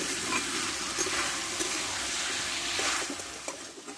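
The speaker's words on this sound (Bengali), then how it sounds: "আমি চিকেনটা ভালোভাবে কষে নেব" Chicken for spicy chicken kosha sautéing in a pan gives a soft, steady sizzle and hiss, with faint scraping stir sounds now and then, heard quietly and alone.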